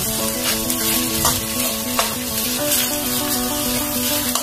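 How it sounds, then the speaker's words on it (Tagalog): Onions fry in a pan while cooking beef tapa, a constant close sizzle with faint crackles running steadily throughout. "prito natin ng konti yung sibuyas"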